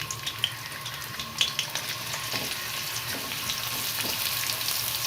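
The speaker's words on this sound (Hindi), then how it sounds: "घी को हमने गरम कर लिया है। अब हम इसके अंदर प्याज डाल देंगे और इनको लाइट ब्राउन करेंगे।" Onions fry in hot ghee in a pan for an aloo shimla mirch sabzi, a steady close sizzle with occasional stirring scrapes.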